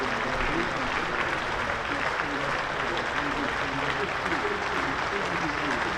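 A cricket crowd applauds after a wicket falls in a one-day cup quarter-final, dense sustained clapping from a large distant gathering, with a commentator's voice faintly over it.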